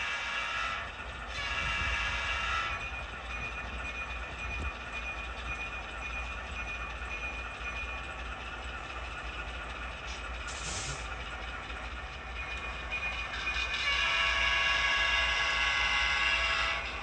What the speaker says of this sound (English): We see RJ Corman number 1829 coupling up to the cars that BNSF had just dropped off.